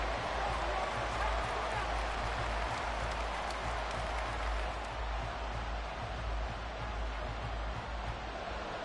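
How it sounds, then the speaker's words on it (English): Broad, steady roar of a football stadium crowd cheering during an Eagles vs Broncos game, a dense wash of massed voices holding at a constant loud level throughout with no clear breaks. "this crowd is making an impact right now"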